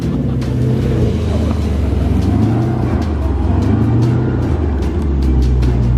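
A Dodge Charger Scat Pack's engine drones loudly and steadily while stuck in snow, the pitch rising and falling as it revs, close and continuous throughout.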